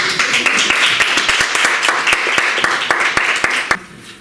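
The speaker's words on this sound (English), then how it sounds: "Great applause for him." Audience applause at a school public speaking contest, a dense, loud wash of clapping from a crowd lasting a few seconds before stopping sharply.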